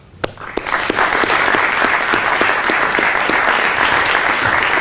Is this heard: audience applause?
yes